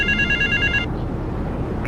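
A payphone rings in Grand Theft Auto III, a bright electronic trill lasting under a second, followed by a short quiet stretch and the start of another ring.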